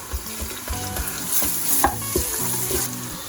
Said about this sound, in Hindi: इसमें अब हम डालेंगे लहसुन अदरक की पेस्ट। उसको भी ऑयल के साथ घी के साथ अच्छे से मिक्स करेंगे।